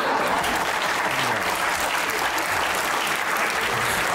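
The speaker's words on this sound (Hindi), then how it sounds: "इसमें मुझे बताओ क्या बात है ताली बजाने वाली है?" Audience at a Pakistani comedy show breaking into loud, sustained applause, a dense steady clapping wash filling the whole stretch with no talk over it.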